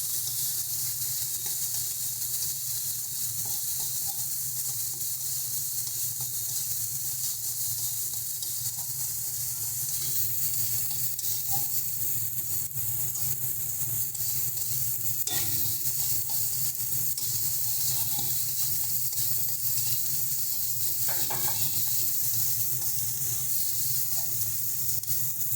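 Spice paste with coriander powder and salt frying for a rohu fish curry, a steady loud hiss and sizzle with faint stirring scrapes, close and continuous without talk.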